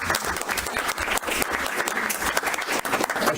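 An audience at a financial forum bursts into steady, loud applause, many hands clapping densely and continuously throughout.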